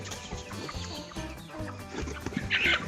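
Fifteen-week-old young hens murmur and cluck in a coop, a busy patter of soft clucks close by with one louder squawk near the end.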